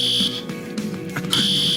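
A building fire alarm sounds in loud, piercing electronic beeps, cutting out briefly in the middle with some shuffling before blaring again.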